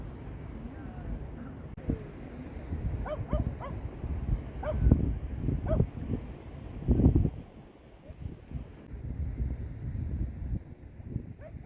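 Several sharp dog barks and yips ring out on a windy seaside beach in Brittany, scattered irregularly at close to moderate distance over steady wind noise.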